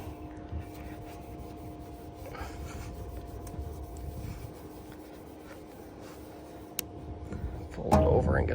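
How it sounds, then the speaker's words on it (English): An oversized grill cleaning cloth scrubs grease and grime off a warm grill, a soft continuous rubbing and rasping close by, ending in a louder clatter. "It's cutting through some of this grease and grime that's on here."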